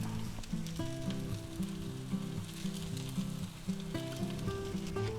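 Bell pepper cakes frying in a pan, a steady close sizzle that runs throughout under a soft tonal hum, with no talking.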